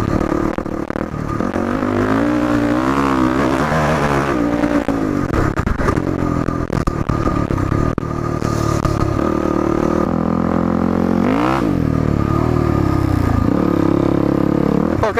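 Yamaha WR450F dirt bike with mods and new jetting accelerating through the gears up to fifth, engine revving loud and close with rising and falling pitch sweeps at each shift.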